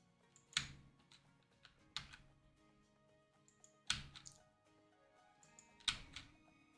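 Keyboard typing while playing Railway Empire 2, heard as a few short clusters of crisp key clicks about two seconds apart, fairly close and quiet, with no talking.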